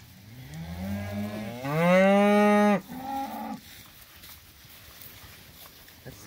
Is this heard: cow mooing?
yes